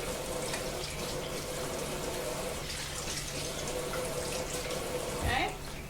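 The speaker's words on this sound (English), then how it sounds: "make sure you're washing your hands really well" A kitchen tap runs steadily for several seconds while hands are washed with soap, a constant close splashing hiss with a brief louder gush near the end.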